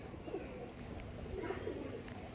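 Madrasi tournament-quality pigeons cooing softly in a loft, low repeated coos over a steady background hum, fairly quiet with no speech.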